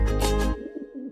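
A pigeon gives a soft, close coo, with a fuller burst at first that trails off into a lower, quieter murmur.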